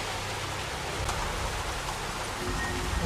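Steady rain and wind from a storm in the Jurassic World Evolution park-building game, a continuous hissing wash of rainfall with low rumbling gusts, fairly close and unbroken, with no talking.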